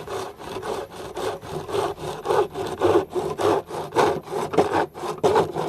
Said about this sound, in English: So this mitre box is just going to allow me to make a nice right angled cut.